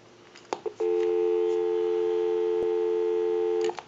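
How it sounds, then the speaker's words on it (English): A few clicks and a short tone, then a steady telephone dial tone hums continuously for about three seconds before cutting off, heard through a Western Electric 302 rotary desk telephone. "We can give you some dial tone."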